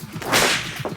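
A whip crack sound effect in a comedy scene, a single sharp swishing crack over a busy background of music and noise, with no talking.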